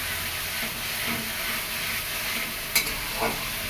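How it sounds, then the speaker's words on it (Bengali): Chicken curry spice mix stir-fries in a pan with a continuous sizzle, broken by a couple of sharper scraping stirs near the end. "আর এদিকে মাংসের মশলা কষানো হচ্ছে"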